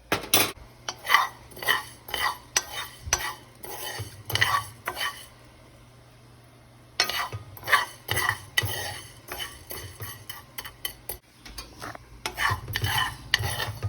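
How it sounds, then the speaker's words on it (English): Sticky rice roasting in a pan for nom tok neau is stirred with a utensil, giving repeated scraping, clattering strokes against the pan in bursts, with a pause partway through and a faint sizzle underneath. "let it roast on its own for a little bit, and then go around and stir it"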